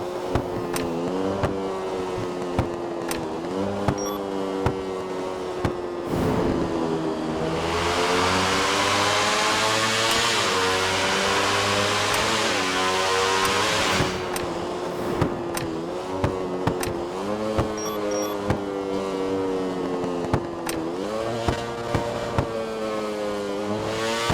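A modded Ducati V4S motorcycle engine in GTA V idles, then revs hard for several seconds, with sharp crackling backfire pops scattered throughout, close and loud.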